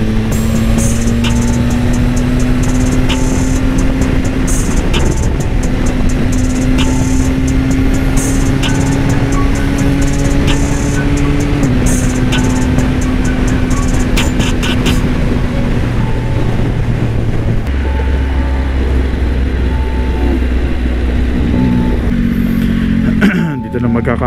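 A Yamaha XSR900 motorcycle ridden on the road, with a loud, steady engine drone and shifting pitch as it holds speed, mixed with heavy wind rush throughout.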